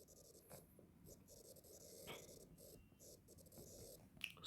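Pen or pencil scratches as numbers are written by hand for a class-4 maths problem, soft close strokes in short bursts, quiet and without speech.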